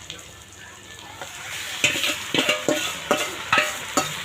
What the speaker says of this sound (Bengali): এই পেঁয়াজটা আমার লাল লাল করে ভাজা হয়ে গেছে এবার আমি এবার আমি মাটনটা দিয়ে দেবো